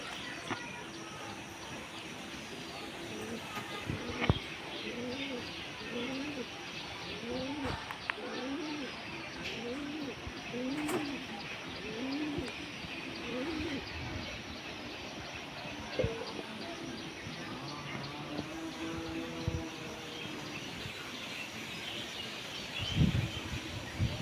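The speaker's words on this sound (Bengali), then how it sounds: "অনেকদিন পর আজকে বাড়ির পায়রাগুলো উড়ালাম।" Domestic pigeons coo in a repeated, rhythmic series, close and clear, with occasional wing flaps and clatter in an outdoor setting and faint background noise.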